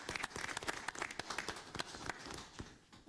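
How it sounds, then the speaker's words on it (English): A room of attendees at a school board meeting claps, a moderate, fairly even patter of many hands heard at a quiet, slightly distant level. "Let's give them a round of applause."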